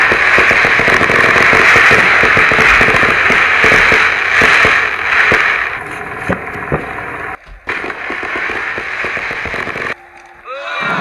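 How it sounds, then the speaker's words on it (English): Cartoon fireworks on the 4th of July: a long, loud crackling hiss with sharp popping bursts that fades and breaks off, followed by a couple of quieter isolated crackles near the end. "Did you put a massive explosion in the sky?"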